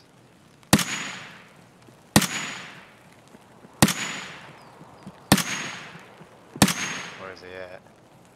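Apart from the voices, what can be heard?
gunfire in the video game Escape from Tarkov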